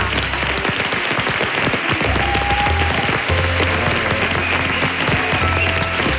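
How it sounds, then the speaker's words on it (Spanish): Audience applause at a televised talent show final in Spain, a dense, continuous wash of clapping filling the whole stretch with steady loudness, a few faint tonal notes drifting underneath. "aplauso especialísimo"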